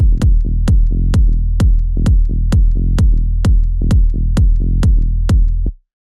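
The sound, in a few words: kick drum and bass together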